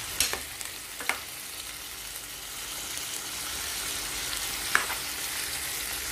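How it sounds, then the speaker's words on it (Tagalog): Squid adobo with potato sautés in a pan, a soft steady sizzle broken by a few sharp clicks and scrapes of a spoon stirring against the metal. "Haluin lang natin siya ng maayos."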